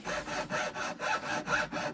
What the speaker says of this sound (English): just letting the saw do the work